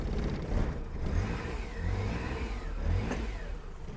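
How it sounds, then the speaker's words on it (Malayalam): A scrap Maruti 800 engine that has just caught after failing to start, revving unevenly in rising and falling swells, loud and close, with no one speaking. "വണ്ടി സ്റ്റാർട്ടായി പക്ഷേ ഡേഞ്ചറാണ്"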